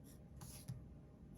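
Pencil drawing a spaceship's drooping cockpit front on paper, a faint, steady scratching and rubbing stroke with a couple of slightly firmer marks, close and quiet with no voices.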